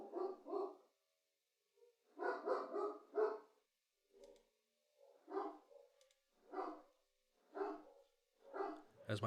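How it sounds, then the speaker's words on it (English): A pet dog barking wildly indoors, bursts of several rapid barks separated by short pauses, moderately distant and repeated throughout with no talk over it. "As my dog is going wild."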